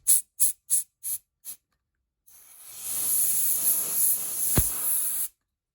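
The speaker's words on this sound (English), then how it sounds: "Compressed air." Compressed air cleans a dusty iPhone 11, first five short sharp puffs in quick succession, then after a pause one long steady hiss lasting about three seconds before it cuts off.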